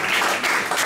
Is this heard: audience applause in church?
yes